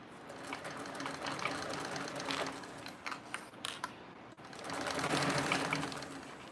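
Sewing machine stitching a 3/8 inch seam allowance, a steady fast mechanical whir and tick that runs continuously, with a brief pause and a stop near the middle before it picks up again, loud and close.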